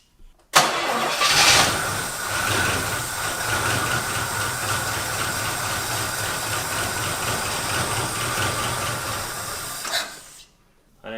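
An abandoned Oldsmobile, left sitting for 23 years, cranks and catches, then runs steadily at a rough idle for roughly ten seconds before shutting off, loud and close.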